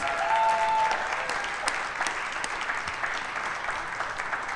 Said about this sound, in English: let's one more round of applause for Josiah and Ben Sims